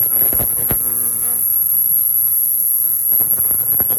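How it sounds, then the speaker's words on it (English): Loud steady hum with a high-pitched whine on top, broken by a few sharp clicks at the start and end. "we're sonic cleaning the injectors first, then we're going to flow test them wide open"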